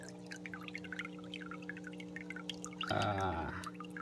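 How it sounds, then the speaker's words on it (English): Water trickles and drips steadily from a small paludarium waterfall, a soft continuous patter under a low steady hum, with a brief louder splashing burst near the end. "My waterfall works."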